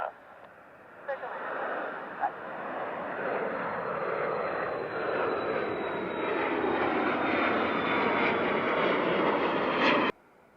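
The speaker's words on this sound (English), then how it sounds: "There's a Gulfstream G550." Gulfstream G550 jet roaring steadily and fairly close as it lands at an airport, a broad sustained engine wash with a faint rising whine, ending abruptly.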